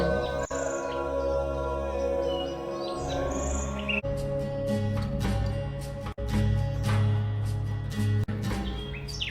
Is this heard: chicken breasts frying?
no